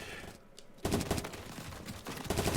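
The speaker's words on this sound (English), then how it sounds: "And Zeqot takes out Weaz and Gluumy with the ace" Dense gunfire erupts in a competitive tactical shooter firefight during a tournament final, a sustained burst of rapid shots filling the scene after a brief quiet moment, loud and continuous with a second surge near the end.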